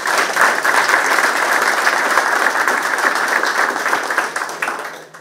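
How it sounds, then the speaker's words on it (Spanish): Audience applause at a send-off for Uruguay's delegation to the Santiago 2023 Parapan American Games: loud, steady, dense clapping from a crowd that holds for about five seconds before fading slightly at the end. "el primer aplauso para ellos porque son los que se lo merecen"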